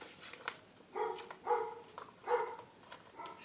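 A dog barks repeatedly indoors from another room, several muffled, moderately loud barks in an uneven rhythm over faint room noise.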